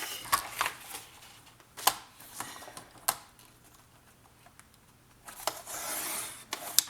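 Scissors or a blade trimming excess card stock for a pop-up Christmas card, giving a few quiet, scattered rasping snips and rubs with soft pauses between, close by and alone.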